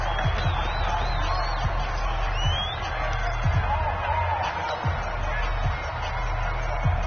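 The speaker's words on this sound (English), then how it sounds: "The crowd here in the Dome making things difficult." Steady roar of a football crowd inside the Dome, loud and continuous with a few sharper thuds and whoops rising above the din, with faint commentary voices underneath.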